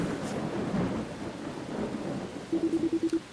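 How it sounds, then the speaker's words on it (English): Rain and distant thunder in the video game Dragon Quest VII, a steady wash of rainfall with low rumbles throughout, and a short run of rhythmic game tones near the end. "Is that rain? It's colder than heck."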